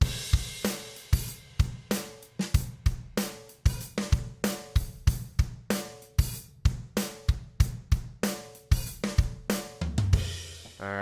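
A Logic Pro Drummer track plays a steady acoustic kit beat with punchy kicks, snare hits and cymbals in an even rhythm, close and clean, ending with a short fill and a low boom.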